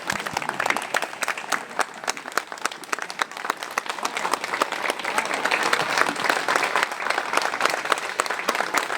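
An audience giving a standing ovation after a poem recital, dense sustained clapping from a large crowd, loud and steady throughout with no letup.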